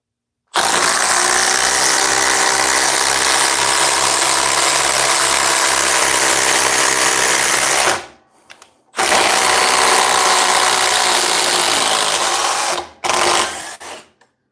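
A Milwaukee M12 power tool drives fasteners in two loud, sustained whirring runs with a steady motor drone and a ratcheting mechanical texture. A short pause separates the runs, and a brief final burst ends the sequence.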